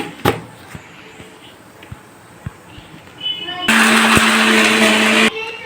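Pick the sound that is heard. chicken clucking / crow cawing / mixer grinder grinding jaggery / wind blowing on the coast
mixer grinder grinding jaggery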